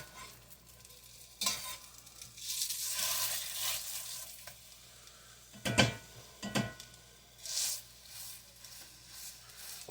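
Sausage frying in a pan, a soft steady sizzle broken by louder scraping and stirring bursts of a utensil against the pan, close and fairly quiet with no talking.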